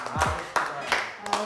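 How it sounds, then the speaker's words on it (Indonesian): A few evenly spaced hand claps ring out over voices in a room, brief and close. "Tepuk tangan dulu dong sebelum kita mulai acara."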